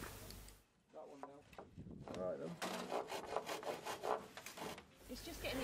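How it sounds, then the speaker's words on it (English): A hand saw rasps through timber in quick repeated strokes, cutting mitres on a straight edge for a garden summerhouse frame; the sawing is fairly faint and close, with short pauses between bursts. "ran my saw along the straight edge, which naturally created the mitre that we needed"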